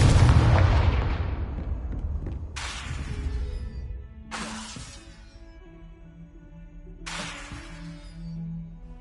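Confringo blast spells in a Harry Potter video game, one heavy rumbling explosion followed by three sharp booming bursts, each trailing off with a ringing decay, loud and close.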